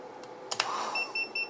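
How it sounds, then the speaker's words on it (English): A UGREEN PowerRoam 600W portable power station beeps on overload, a few short sharp clicks followed by a run of quick, repeated high-pitched beeps, close and clear with no talking. "It starts beeping, everything shuts off."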